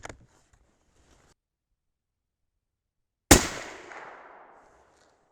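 A 6.5 Creedmoor rifle firing a 140-grain Hornady SST load with Varget powder: one sharp, loud report with a decaying echo, after a few faint sounds and a stretch of silence.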